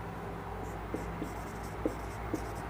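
Marker or chalk strokes squeak and scrape across a board as an example is written, a few short distinct marks over a soft room hum.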